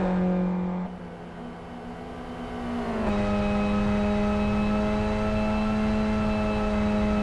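An onboard touring car on a qualifying hot lap holds a loud, steady engine drone, dips briefly as it lifts and shifts, then climbs back to a sustained high-revving whine.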